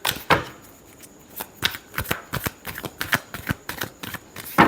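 Tarot cards shuffled by hand in a run of crisp, rapid riffling slaps and flutters, close and fairly loud, with uneven bursts and short pauses between them.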